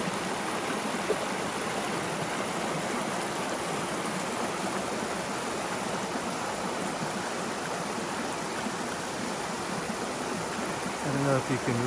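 Steady rush of a flowing stream along the Appalachian Trail, continuous broadband water noise close by with no breaks, filling the whole stretch.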